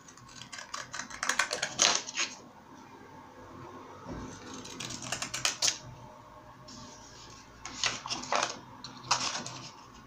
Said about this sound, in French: Je vais venir le découper avec un ciseau crampeur tout autour